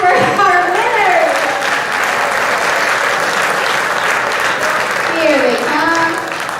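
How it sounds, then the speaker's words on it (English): Loud, sustained audience applause and cheering for the winners of a final debate, a dense wash of clapping from a large crowd, with an amplified voice speaking briefly at the start and again near the end. "Another round of applause for our winners."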